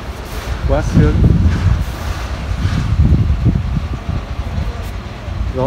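Wind blows across a second-floor rooftop bonsai garden, buffeting the microphone in low, gusting rumbles that rise and fall under a person talking.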